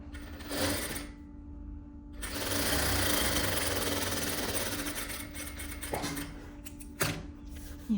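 A sewing machine stitches thin vest lining pieces together, whirring in sustained runs broken by a short pause and a few clicks and stops near the end, close and unaccompanied by speech.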